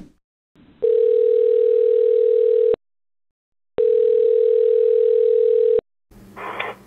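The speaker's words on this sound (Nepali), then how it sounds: "म फोन गर्छु ल।" A telephone dial tone heard while placing a call: a steady, loud, close electronic hum held for about two seconds, then a pause, then another equally long stretch, with no voices.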